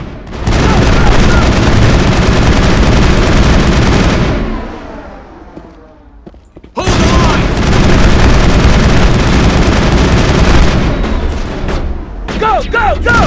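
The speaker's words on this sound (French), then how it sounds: "On essaie de prendre un peu le fusil d'assaut." Assault rifle fire in the Mass Effect video game, a dense, loud sustained burst mixed with booms and explosions that breaks off briefly before resuming.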